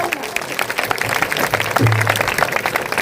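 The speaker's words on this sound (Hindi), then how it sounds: "जोरदार तालियां, जोरदार तालियां" A church audience in Kaptanganj claps for an elderly local shopkeeper, a continuous broad patter of many hands at moderate loudness with some voices mixed in.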